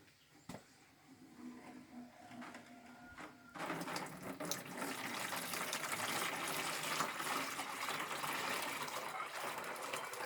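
Cooked and cooled Turkish gülleci bulamaç liquid being strained, a quiet trickle at first, then a steady, fairly loud pouring gush that runs on continuously.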